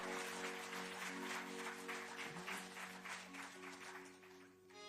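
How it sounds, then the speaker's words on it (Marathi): Dense, steady applause from an audience for young shahir folk ballad singers, filling the whole stretch at a fairly loud level before easing slightly at the end, with a faint tonal hum underneath. "त्यांच्याकरता सुद्धा जोरदार टाळ्या"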